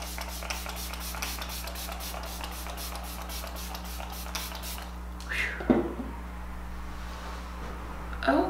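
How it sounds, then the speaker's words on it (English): Flower Beauty Seal the Deal hydrating setting spray gives two short, soft spritzes, one midway and one at the very end, over a quiet indoor background hum. "I'm gonna finish off with the Seal the Deal Hydrating Setting Spray."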